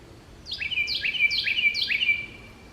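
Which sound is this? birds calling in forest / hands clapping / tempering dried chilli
birds calling in forest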